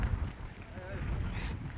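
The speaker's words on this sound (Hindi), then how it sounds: "बहुत तेज़ हवा है" Strong wind during Cyclone Biparjoy in Mandvi roars as constant, heavy buffeting over the microphone, loud and unbroken throughout, with faint voices beneath it.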